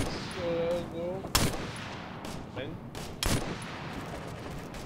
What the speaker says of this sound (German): Ihr Charlie-Team, wir werden beschossen.